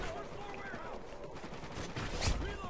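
Gunfire in Call of Duty: Ghosts, with dense shots and a louder close blast near the end, consistent with a shotgun, while a voice talks over it.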